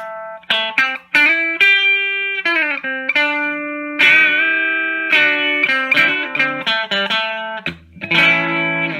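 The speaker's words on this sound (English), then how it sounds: "It's my Telecaster into Blues Junior, which, without the delay, sounds like this." Telecaster electric guitar played through a Fender Blues Junior amp with no delay, giving clean, sustained chords and single notes in a close, steady phrase with brief gaps between strums.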